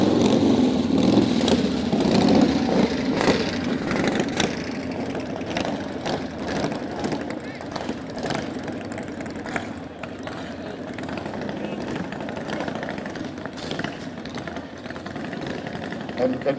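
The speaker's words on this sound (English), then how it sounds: "the loud motorcycle noise coming up right behind them" Motorcycles ride past in a Christmas parade in Fort Jones, a continuous engine rumble with throttle swells running under a crowd and a commentator's voice throughout.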